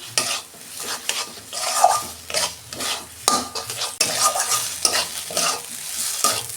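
Shrimp and cauliflower are stirred and fried dry in a pan for a mash, with a spatula scraping and clattering in quick, uneven strokes over a steady close sizzle, and no voices.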